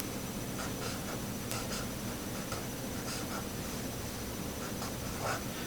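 Pen scratching on paper or a board while subshell notation is written out by hand, a quiet run of short strokes and taps over a steady background hiss, with no talking.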